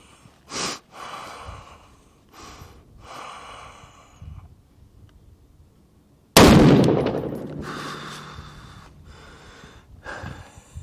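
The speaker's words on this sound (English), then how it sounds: "So, here we go. 5 more shots." A rifle fires one loud, close shot during a chronograph test comparing Garmin and Athlon units, the blast ringing out and decaying over a few seconds, set among soft breathing and handling noises.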